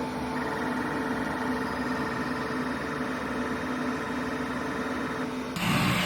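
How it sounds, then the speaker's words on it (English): Bambu Lab P1S 3D printer printing a small boat model, giving a steady mechanical whir with faint tonal motor hum throughout, ending in a brief shift of noise near the end, no speech. "Printer is printing a benchy and it's not even that loud."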